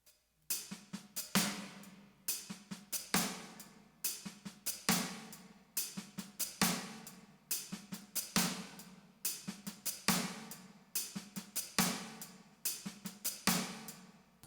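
A drum kit plays a steady groove of crisp hi-hat strokes with quiet snare ghost notes and hi-hat foot chicks, repeating bar after bar at a moderate tempo, close and alone.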